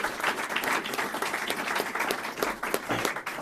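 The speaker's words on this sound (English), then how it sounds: "give them a big round of applause" At a Polk County news conference, the crowd breaks into a brief, lively round of clapping that stays fairly even and continuous throughout.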